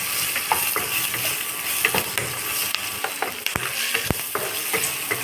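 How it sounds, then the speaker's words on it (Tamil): Shallots, a single green chilli and curry leaves sautéing in hot oil in a pan, a dense continuous sizzle with scattered sharp clicks and scrapes of a stirring utensil, close and fairly loud without any talk. "வெங்காயம் நல்லா வதங்கட்டும்"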